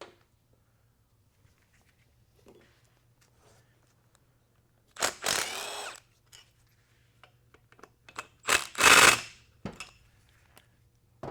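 Impact wrench used while tearing down a 2000 hp rated Powerglide transmission, firing two sharp, loud hammering bursts of about a second each separated by quiet shop sounds and small clicks.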